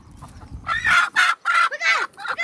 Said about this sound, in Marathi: अशी धरायची असती कोंबडी.